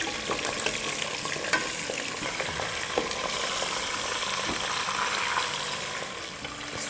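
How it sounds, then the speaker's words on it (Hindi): Bone-in mutton, about a kilo, sautéing in a new pressure cooker until it changes colour, giving a steady close sizzle broken by scattered clicks and scrapes from stirring, with no talking. "इसको हमें उस वक्त तक भूनना है जब तक कि इसका कलर चेंज ना हो जाए"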